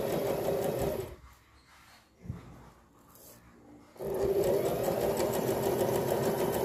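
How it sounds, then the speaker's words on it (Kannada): A Brother sewing machine stitching on rough cloth runs in a loud, fast mechanical whirr, stops for about three seconds, then starts again and keeps going, all up close. "ಸಿಂಪಲ್ಲಾಗಿ ಯಾವುದಾದ್ರು ಒಂದು ರಫಿಗೆ ಸ್ಟಿಚ್ ಹಾಕ್ತಾ ಇದ್ದೀನಿ"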